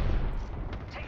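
Gunfire in the video game Apex Legends: a dense, loud burst of low booming shots crowds the short moment, with a voice faintly mixed under the firing.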